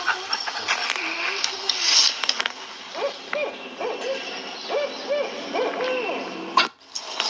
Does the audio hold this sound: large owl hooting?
yes